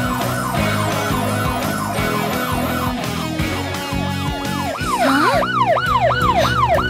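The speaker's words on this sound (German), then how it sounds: "Achte auf die Sirene der Flugdrohne." A flying drone's wailing siren cycles up and down repeatedly, loud and close, over a pulsing mechanical background, then shifts to a faster rising and falling pattern.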